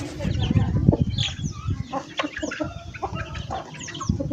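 A rooster clucks in short, irregular bursts close by, with grain being scattered and voices talking over it.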